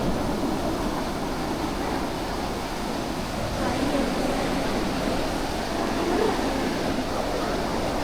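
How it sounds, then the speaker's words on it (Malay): Ocean waves break on a beach in Kelantan as a continuous, moderately loud rushing wash. There are no distinct crashes, and wind noise runs through it. "Oh, ombak dia."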